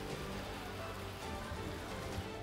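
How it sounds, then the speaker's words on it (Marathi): Monsoon rain patters steadily on a surface in Thane district, Maharashtra, a continuous dense hiss of drops without pauses. "एकीकडे पाऊस पडतोय"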